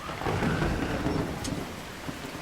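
Heavy rain pours down in a trucking video game, a dense steady hiss with low rumbling beneath and a brief sharper crackle midway, continuous and loud throughout.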